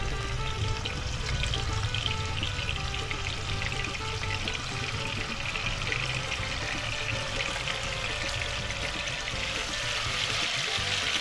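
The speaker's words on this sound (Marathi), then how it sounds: "तेल गरम झालेलं आहे आणि एकरूचे आपण आता पीस फ्राय करायला लागलो." Pieces of giant grouper fish fry in hot oil with a steady, continuous sizzle and crackle that holds at an even level from start to finish, with no voices over it.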